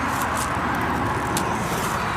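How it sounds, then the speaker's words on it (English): Road traffic rolls steadily past close by, a continuous broadband roar with a brief brighter swish of a passing car, heard while pottery pieces are being shown outdoors. "It's a bit noisy because of the cars in the background"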